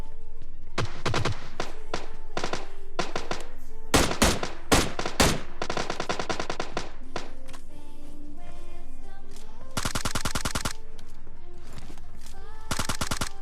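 Automatic and single gunshots ring out in the PUBG Lite battle royale game, loud, close bursts of rapid fire with brief pauses between volleys, then a long sustained spray near the end.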